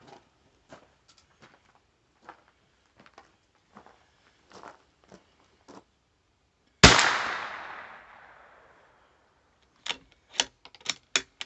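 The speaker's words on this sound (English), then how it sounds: "That shot was about a half inch high and an inch and a half to the right." A single loud, close 350 Legend rifle shot at an outdoor shooting range in Eastern Kentucky, with a sharp crack and a decaying echo, set between soft scattered footsteps and small handling clicks.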